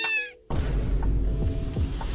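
A cat gives a short, clear meow near the start, followed by a dense, loud low rumble of background noise that buries everything else.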